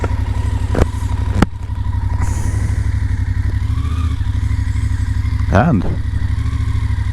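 A BMW F750GS adventure motorcycle on a Norway trail ride pulls away at a steady, loud, close drone, with a sharp knock or two and a brief rev toward the end. Someone speaks a single word.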